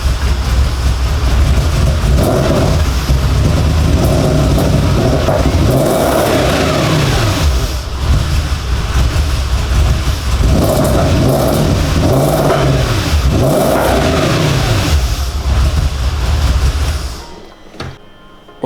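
Audi S4 V8 engine, just started after two years and running roughly, likely from vacuum leaks, producing a loud steady drone that rises and falls through several revs before cutting off abruptly near the end.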